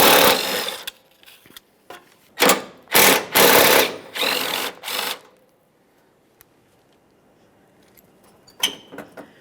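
Ratchet or tool spinning out 10mm mounting bolts from the headlamp bracket of a 2007-2013 Acura MDX: several close, loud bursts of rapid clicking and rattling separated by pauses, then a quieter stretch and a few last bursts.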